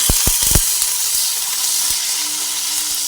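Okra fries in hot oil in a pan, a steady loud sizzle and crackle filling the scene, with a few quick knocks near the start and no voices.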